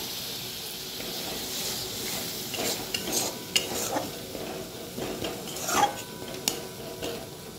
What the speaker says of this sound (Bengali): ভালো করে আবার মশলাটাকে কষিয়ে নেব